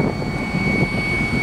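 A TVS iQube electric scooter is pushed to full throttle while losing power, giving a steady high motor whine over a broad rushing roar that stays even throughout.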